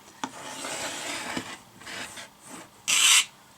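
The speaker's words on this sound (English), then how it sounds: "So I want to just trim a little bit off here," The edge of a small art quilt is trimmed with scissors or a cutter, giving soft rasping rubbing strokes of fabric and a sharp louder cutting swipe near the end, close and intimate.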